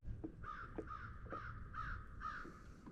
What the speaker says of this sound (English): Them crows.